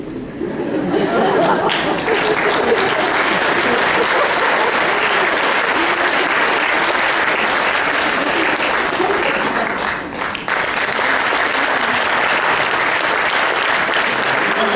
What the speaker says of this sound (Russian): Еще раз бурные аплодисменты